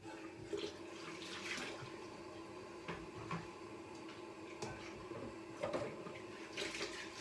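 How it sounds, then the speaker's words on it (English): Hands being washed with soap under a running tap at a sink, a steady wash of water with intermittent splashes and rubbing, close and moderately loud, no talking. "Now, I'm going to wash my hands with soap."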